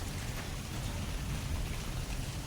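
Rain falls steadily outdoors on a hot day at a Punjabi home, where a cot sits in the yard, making a continuous even hiss with no breaks and no voices.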